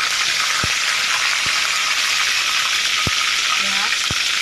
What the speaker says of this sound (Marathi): मोहरी आपली तडतडत आलेली आहे. आता आपण जिरं टाकणार आहोत.